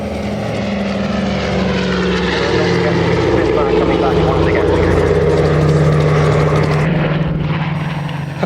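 Douglas Dakota propeller transport aircraft in 267 Pegasus Squadron livery flying at an airshow in Ulster, a loud, steady multi-engine drone holding throughout with a slight pitch shift as it passes.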